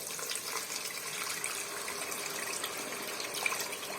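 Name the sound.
pouring water into pot of tomato and onions for koshari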